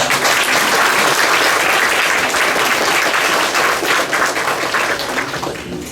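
A graduation ceremony crowd applauds loudly and continuously, dense clapping that holds steady before thinning slightly toward the end.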